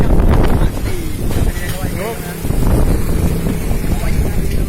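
Strong gusting wind from a whirlwind in Banda Aceh roars loudly and steadily into the microphone, buffeting throughout, with faint voices partly buried beneath it.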